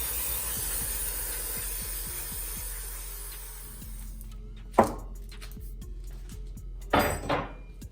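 A hammer taps a punch while working on a Japanese mini truck transmission, giving a few sharp, separate metallic strikes near the end after a steady hiss and low hum fade out.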